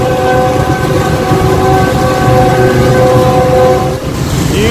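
45UP Pakistan Express train departing Multan at speed, a loud steady roar of the locomotive and rolling wagons with sustained horn-like tones throughout, close and continuous, with no talking.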